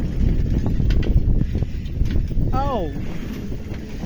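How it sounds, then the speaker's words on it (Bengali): Steady strong wind roaring and buffeting the microphone throughout on a village road, with a short rising whine partway through. "বাতাস এত বাতাস যে আমরা মোটরসাইকেলটা চালাতে পারছি না"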